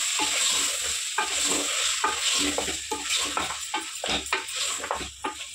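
Mutton being stirred with salt and tender tamarind leaves in a pan, with a steady sizzle and irregular scraping and stirring strokes close by, no talking.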